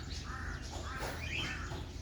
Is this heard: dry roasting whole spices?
no